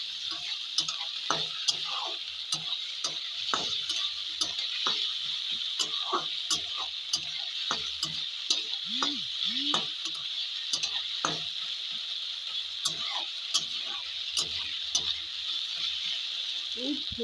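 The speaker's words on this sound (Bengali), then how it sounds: "রসুন বাটা লঙ্কা বাটা কাঁচা লঙ্কা বাটা সেটা একদম নেড়ে চলে দেবো" Garlic paste and green chili paste being stirred as they fry in a pan, a continuous bright sizzle with frequent irregular spatula scrapes and taps against the metal, close and steady throughout.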